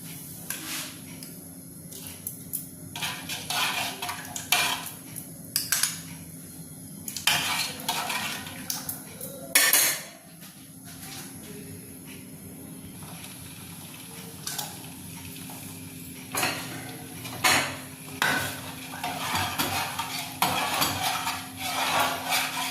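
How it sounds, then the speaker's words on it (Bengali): A spoon stirring rice into milk in a metal pot, with repeated close clinks and scrapes against the pot in uneven bursts over a low steady background. "এবার কিন্তু আমি এই চালটা দুধের মধ্যে আস্তে আস্তে দিয়ে দেবো, তারপর ভালো করে একবার নাড়িয়ে দেবো।"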